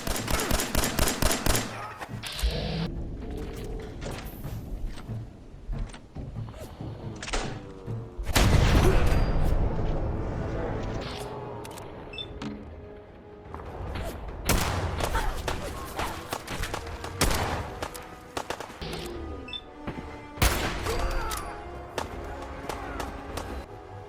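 Rapid bursts of video-game gunfire ring out during a raid on a settlement, with clusters of shots and heavy thumps scattered across the stretch, some loud and close, others sparser between pauses.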